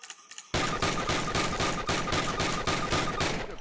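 Call of Duty basic training: after a brief quiet moment, rapid automatic gunfire erupts in loud, evenly spaced bursts that continue to the end.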